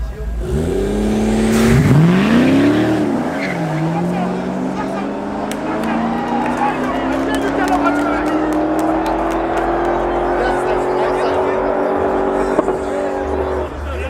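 A box-shaped Toyota Corolla with a V8-like engine on full slicks drag races a BMW M140i on a Johannesburg street. A loud engine note revs and climbs steadily as the car pulls away, with a voice talking over it.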